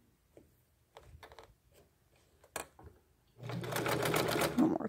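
Sewing machine tacking a doily onto the bottom of a rope bowl: a few short, close bursts of stitching, then a louder, steady run of machine whirring that lasts to the end.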